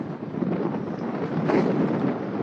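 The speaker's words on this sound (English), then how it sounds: "we've got ferocious headwind here" Strong headwind buffets the microphone while cycling along a road in Oman, a steady low roaring rush with gusty swells, no voices.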